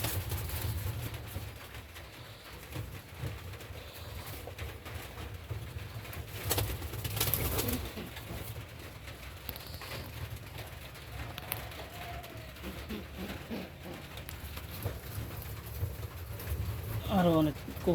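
Healthy, large pigeons kept for sale in Bagharpara, Jessore coo softly and intermittently in the background, with occasional fluttering and movement, while someone talks over them.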